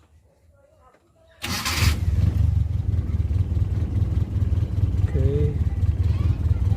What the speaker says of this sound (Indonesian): Oke, TCI sudah nyala. Kita coba nyalakan.